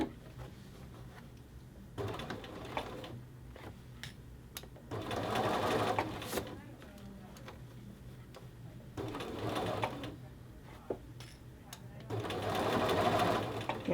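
A sewing machine stitches a collar band onto a men's shirt in short bursts of rapid whirring, separated by quieter pauses, with a person talking softly between runs.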